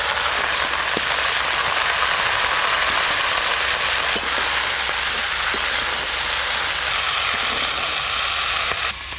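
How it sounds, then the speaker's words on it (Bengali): Potato and eggplant pieces frying in a pan of hot oil give a steady, loud, continuous sizzle and crackle that runs unbroken throughout, with no voices. "সব সবজিগুলো আমি ভালো করে ভেজে নেব। আলু আর বেগুন।"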